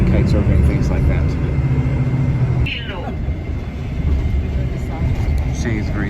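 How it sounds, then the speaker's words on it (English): An airplane passes overhead near Maho Beach on Saint Martin, a broad engine rumble that swells and fades behind a person talking. "we just saw that plane flying overhead"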